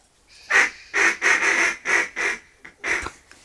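Several ducks quacking in a marsh during an early-season waterfowl hunt, with wood ducks, teal, mallards, gadwalls and pintails about; seven loud, separate quack bursts come close together, with no talk.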